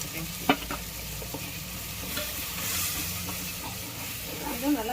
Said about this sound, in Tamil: இப்போ இங்கே மசாலா நல்லா வதங்கிட்டு இருக்கோம்